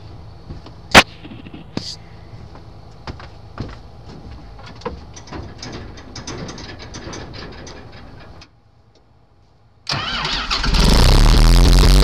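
A 7200 grain buggy tractor engine turning over hard on a corn harvest day, several uneven cranking bursts and clicks, a pause of near silence, then a loud roar as the engine catches and runs close by.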